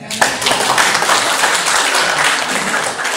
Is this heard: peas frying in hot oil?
no